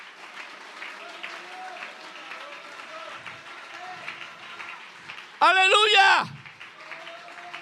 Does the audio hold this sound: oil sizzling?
no